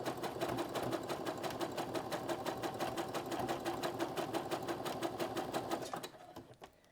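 A sewing machine stitches elastic onto panties with a fast, even, rhythmic chatter that runs steadily for about six seconds, then stops and fades into quiet.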